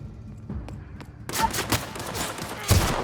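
In The Outer Worlds, a gun fires a loud burst of shots after a quieter start. Rapid, overlapping gunfire continues to the end.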